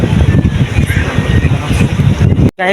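A small passenger launch on a river in Bhola, heard as a loud, steady rumbling engine drone mixed with heavy wind buffeting the microphone, cutting off abruptly near the end.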